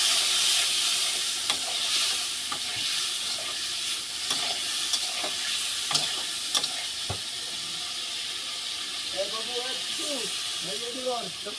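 Spice masala frying with water in a pan for a tilapia fish curry, a steady loud sizzle and hiss with intermittent stirring scrapes, and a few faint tonal chirps toward the end.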